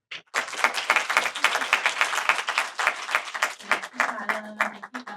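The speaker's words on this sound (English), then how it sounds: "So again, a round of applause for" An audience at a children's advocacy center panel event breaks into applause, many hands clapping close and lively with uneven bursts, while a voice briefly speaks near the end as the clapping fades.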